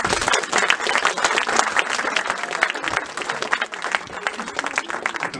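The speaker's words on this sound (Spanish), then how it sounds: "y también pido un fuerte aplauso" Loud, sustained applause from an audience, dense clapping that swells and then eases slightly toward the end.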